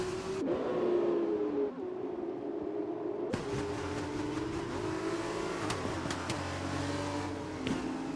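F2 race car engines in a wet race in a racing video game, a continuous high engine whine with shifts and a sudden burst of louder noise and spray partway through, with no talk.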